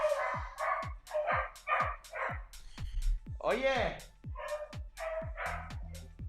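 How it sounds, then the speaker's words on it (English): A dog barks repeatedly in an agitated run of sharp, close barks with a whine or yelp mixed in, while a person talks briefly over it. "The dog's going absolutely nuts here."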